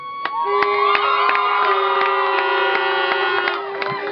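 A crowd cheers and shouts at a night homecoming for the Castlegregory junior All Ireland champion team, loud sustained whoops and voices with children shouting, overlaid by a steady tonal horn or whistle drone and sharp bursts.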